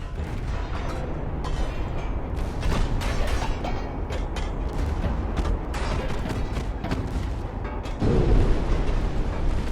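Warship guns fire in Ultimate Admiral Dreadnoughts, a naval battle game, with repeated booming shots and a mechanical rumble throughout, and a louder blast near the end.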